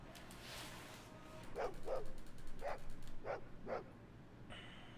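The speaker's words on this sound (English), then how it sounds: "hear a doggy." Dog barking in the 1998 PC game Fallout 2: five short, evenly spaced yips from a moderately distant dog over a low ambient game hum, with no talking.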